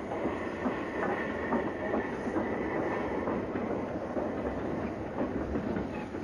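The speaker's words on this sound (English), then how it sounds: "sister engine 70026 Polar Star heads a parcels train to Leeds." Steam locomotive 70026 Polar Star rumbles past hauling a parcels train, with steady rhythmic wheel clatter and a hissing wash of noise, heard at moderate distance near Mirfield, with no voices.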